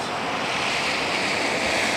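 Fast-flowing floodwater after monsoon rains in Avra Valley makes a loud, steady rushing roar, dense and unbroken throughout with no voices.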